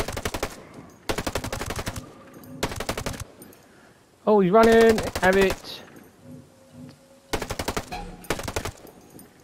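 Bursts of 553 rifle fire aimed at a pack of wolves in Ghost Recon Breakpoint, loud rapid volleys in five or six separate strings with gaps between them, plus a short spoken remark midway.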